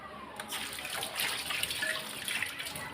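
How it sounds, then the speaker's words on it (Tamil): Running tap water splashes steadily as fresh coriander leaves are rinsed at a kitchen sink while cooking sambar, a continuous close, even gush with no talking. "கொத்தமல்லி தழையை கழுவி போட்டுக்கலாம்"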